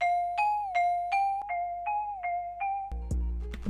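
A dry melody sample processed with EQ, an RC20 Vinyl 2 preset and Valhalla vintage reverb, a bright repeating synth-like line of short plucked notes with a lo-fi tone, then a sudden low bass thump and crackle at the end.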